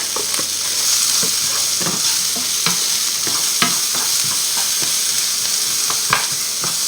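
Potatoes with garlic and onion frying in reserved fat, cooked alongside tournedos, give a steady close sizzle with repeated sharp stirring scrapes and clicks.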